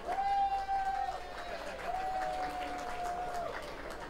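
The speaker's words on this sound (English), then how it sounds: "let's keep the applause going now" An audience at a women's darts final of the England National Singles claps in a steady, full round of applause, with a thin sustained tone running through it.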